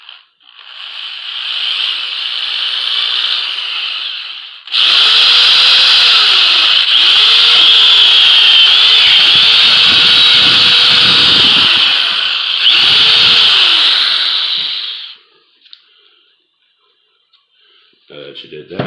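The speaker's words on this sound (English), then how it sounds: "and you're going to drill a hole straight through." Power drill boring a hole straight through a homemade fishing bank pole, a loud steady whine that runs for several seconds, pauses briefly, then continues at full strength before stopping, with slight pitch dips as the bit loads.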